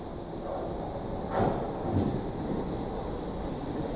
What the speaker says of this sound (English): there's another train approaching with it.